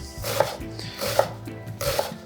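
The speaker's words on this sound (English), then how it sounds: "Now I've only gone through half of the onion because I only plan on using half of it, so. And really small diced." Knife dicing half an onion small on a cutting board, three crisp chopping bursts about a second apart, close and clear, with no talk.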